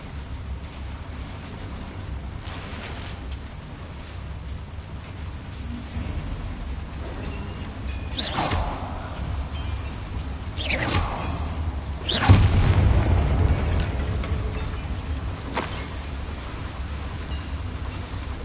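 Bombarda spell explosions in the game Hogwarts Legacy, several deep booming blasts with rushing debris-like crackle, spaced a few seconds apart over a low rumbling bed, the last one loudest.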